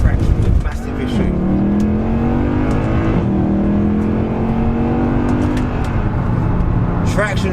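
A Mercedes C63 AMG launches hard on a damp road in the rain, its V8 rising loud and close through the gears with a brief shift dip and steady drive to the end, voices mixing in.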